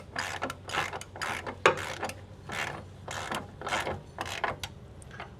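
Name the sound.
ratchet tightening caliper bracket bolt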